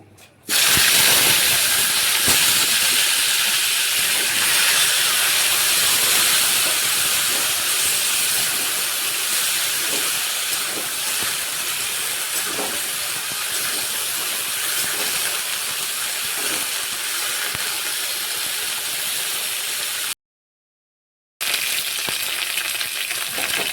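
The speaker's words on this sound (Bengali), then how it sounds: "ফুলকপিগুলো ভেজে নিচ্ছি।" Cauliflower florets frying in hot oil for a Bengali aloo fulkopi dish, a loud, steady sizzle and hiss with crackling pops throughout, broken by a brief gap of silence near the end.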